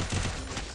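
Gunfire in a competitive shooter video game comes as a short, sharp burst of shots, brief and fairly loud, with no talking over it.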